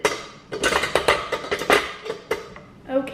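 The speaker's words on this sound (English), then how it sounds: "In a separate bowl, beat together butter, sugar until light and fluffy" Butter and sugar beaten in a bowl, with irregular clinks and scraping knocks of a utensil against the bowl, close and fairly loud, no talking.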